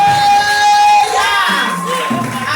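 A church congregation at a back-to-school service cheers and acclaims Jesus Christ with a loud, sustained crowd roar of mixed voices and shouts, full and close, mingled with a high held tone and shifting vocal calls.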